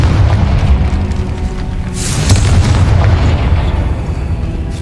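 Confringo fire spell exploding in Hogwarts Legacy on PS5, a heavy, rumbling boom with a deep sustained low roar and a sharper crackling burst partway through.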